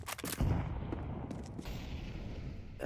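Grenade blast in the video game Counter-Strike during a professional match, a sharp loud burst at the start followed by a rumbling, gunfire-like decay that lingers for a couple of seconds.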